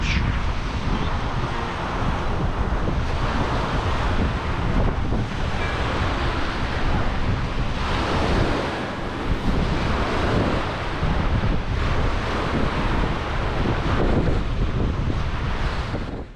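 Waves lapping on the beach at Loch Lomond in Luss, Scotland, heard as a steady, dense wash of water with strong wind buffeting the microphone throughout and no voices.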